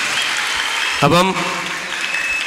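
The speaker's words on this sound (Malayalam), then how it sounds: "എല്ലാവരും കൂടെ ചേർന്നൊരു കയ്യടി തരാമോ, നല്ല കയ്യടി" An audience at a talk on the modern world and the younger generation keeps up a steady patter of applause at a moderate distance. A brief spoken word cuts across the middle.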